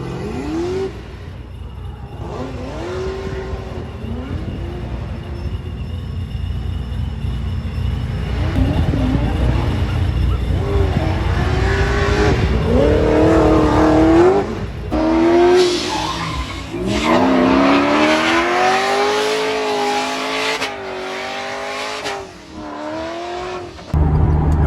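Drift cars rev and skid around a course at a drift event, engines rising and falling in pitch with tire noise over steady crowd rumble, fairly loud and continuous throughout.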